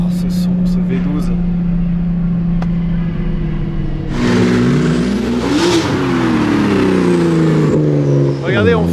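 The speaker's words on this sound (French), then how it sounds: "Oh, ce son, ce V12." An Aston Martin Valour with a V12 and manual gearbox revs hard at a hill climb, its engine note rising and falling loudly through several gears, with someone talking over it and a crowd around.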